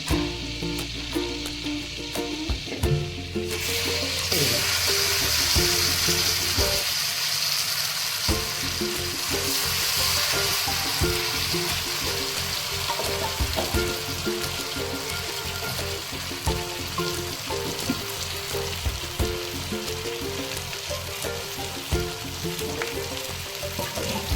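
Tandoori chicken sizzling loudly in a pan of butter and oil, a dense continuous crackle and hiss close by, with a brief clatter near the start and some stirring noises, and no talking.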